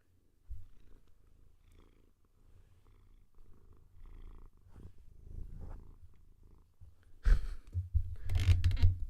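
A cat purrs close up in soft, rhythmic low rumbles, with brief rustling and scratching noises growing louder toward the end.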